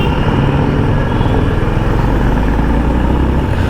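A Honda CB 350 RS motorcycle on a test ride, its engine giving a loud, steady low rumble with continuous road and wind noise throughout.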